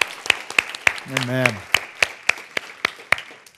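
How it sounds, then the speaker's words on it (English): A church congregation claps in a brisk, fairly even rhythm of single hand claps, with a voice briefly calling out partway through. "Let's give the Lord a clap."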